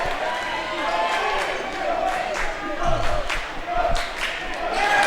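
A crowd at a high school basketball game cheers and roars, swelling in loudness, with a commentator talking over the noise.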